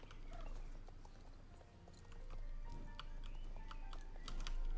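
Horse hooves clip-clop steadily in the Star Stable video game as an American Quarter Horse is ridden, a faint rhythmic patter of hoofbeats with light clicking throughout.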